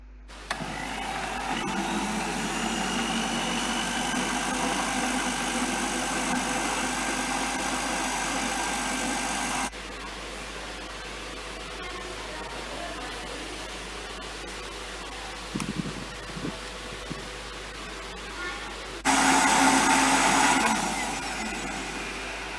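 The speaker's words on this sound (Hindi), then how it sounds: "तो अब हम इसे ब्लेंड कर रहे हैं।" An electric blender whirs through mango and very cold water for a milkshake, a loud, continuous motor drone that shifts pitch as the load changes, dips and then surges again near the end, with no talking.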